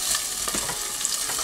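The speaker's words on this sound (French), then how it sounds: "moi je vais continuer quand même à remuer un peu" Salmon and beurre blanc sauce being stirred in a pan over lowered heat give a steady, close sizzle, with soft scraping stirs scattered through the short stretch and no talking.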